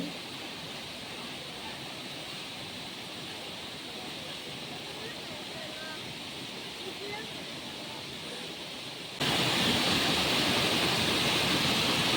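Jhari Falls waterfall in Chikmagalur: a steady, dense rush of falling water that fills the clip with a constant roar, growing noticeably louder and brighter for the last few seconds.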